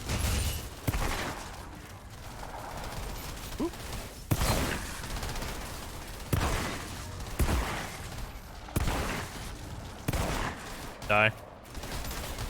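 A shotgun in Outriders fires heavy blasts roughly every two seconds, loud and close amid combat noise, with a player talking now and then.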